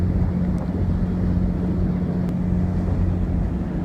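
A ferry's engine drones low and constant off Galveston while wind buffets the microphone throughout.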